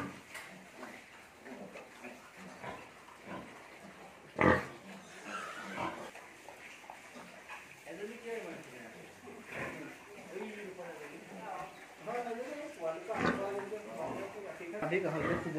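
Pigs grunt intermittently on a pig farm in Assam, short rough snorts scattered beneath a person talking for most of the stretch.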